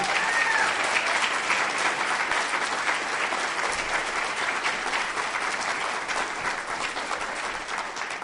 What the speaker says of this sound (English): How about one more round of applause for Jen and Robin?